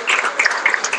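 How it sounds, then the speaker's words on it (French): Staff at a New Year's greetings event for Cap Excellence applaud, a brief stretch of dense clapping from a crowd heard close and fairly loud. "je vous demande d'applaudir bien fort les protagonistes de cette Cap Excellence de cette vie"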